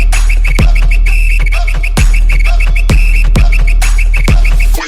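Repeated short whistle chirps from a blown whistle over a loud rhythmic beat of thumping low hits, music-like and close.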